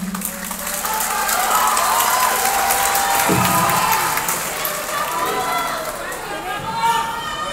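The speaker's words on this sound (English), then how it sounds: "Give yourselves a big round of applause" A concert crowd at the OPM Summer Fest USA Tour 2022 applauds and cheers in a dense, sustained wash of clapping and shouts, with a host's voice briefly heard over it.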